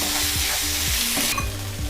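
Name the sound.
ginger paste frying with onions in a pan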